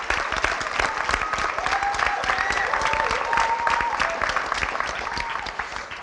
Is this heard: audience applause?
yes